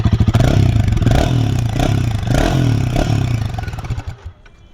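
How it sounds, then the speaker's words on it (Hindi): A Royal Enfield Himalayan 450 motorcycle engine revs loudly and repeatedly with a throaty, pulsing rumble, then cuts off abruptly near the end, leaving faint background noise. "तो अब थोड़ा मैं हिमालयन का साउंड आपको सुनाता हूँ।"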